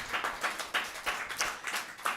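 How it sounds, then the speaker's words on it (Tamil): Congregation at a Tamil church service clapping together in a steady, even rhythm, about three claps per second, moderately close with no talk over it. "ஒரு கைத்தட்டலாமா?"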